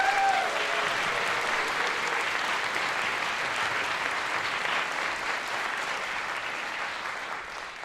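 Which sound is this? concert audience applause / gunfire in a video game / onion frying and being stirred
concert audience applause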